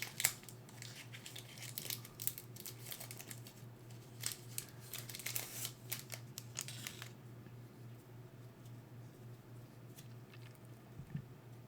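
Crinkling and tearing of foil wrapping as a Magic: The Gathering M12 Core Set booster pack is torn open, close and soft, with dense crackles for about seven seconds before quieting to a faint hum.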